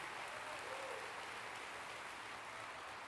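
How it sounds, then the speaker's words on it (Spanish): A church congregation gives a pastor's sermon a round of applause, heard as faint, distant, steady clapping that holds evenly throughout with no talk over it. "Denle el aplauso fuerte y goce la buena noticia"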